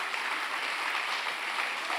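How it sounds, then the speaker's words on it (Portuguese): A church congregation claps during a family worship service, a dense, continuous wash of applause from many hands filling the room. "Se é para Jesus, pode aplaudir."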